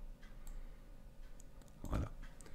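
A computer mouse clicks in photo-editing software. A few soft, close clicks sit over a quiet room background, with one louder thump near the end.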